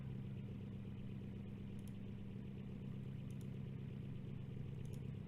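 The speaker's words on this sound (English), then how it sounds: "I don't understand why this thing is revving so far out." A car engine in BeamNG.drive hums low and steady at high revs, sitting far back and faint with a slight clatter and a few brief ticks, and no one speaks.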